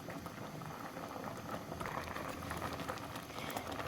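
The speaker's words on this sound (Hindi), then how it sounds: "ये देखें जी, चावल अच्छी तरह से बॉयल हो रहे हैं।" Rice boils in a pot of water for a vegetable pulao: a steady, dense bubbling and gurgling with no pauses, fairly soft and close, alone without talk.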